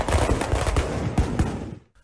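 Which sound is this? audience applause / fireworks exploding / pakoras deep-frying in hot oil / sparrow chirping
fireworks exploding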